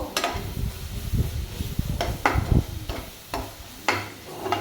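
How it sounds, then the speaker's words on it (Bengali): Ginger garlic paste frying in a pan with shrimp for a prawn masala, a steady close sizzle broken by repeated scraping and clinking of a spoon against the pan. "আদা রসুনের পেস্টটা আমি এর মধ্যে দিয়ে দেব। দিয়ে ভালো করে আমি ভেজে নেব।"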